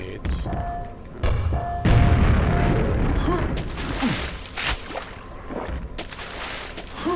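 Grenades explode in the Quake video game as they kill an ogre: two heavy booms close together, followed by rumbling, clattering game sounds.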